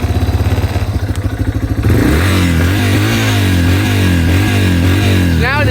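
A 2021 Yamaha TTR 230 motorcycle engine runs close by, first a slow rhythmic idle chug, then from about two seconds a louder, steadier higher idle as it warms up, with a brief rev blip at the end.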